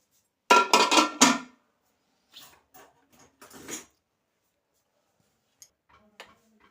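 A pressure cooker of boiled peanuts being opened, with a sharp cluster of loud metallic clanks from the lid, then softer scattered clinks and rattles, and a few faint taps near the end.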